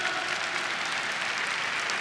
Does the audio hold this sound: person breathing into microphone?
no